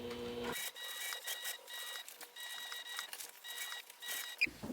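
A sewing machine stitches piping onto a fabric train case, running as a steady close mechanical whir with small dips in speed for about four seconds, no talking.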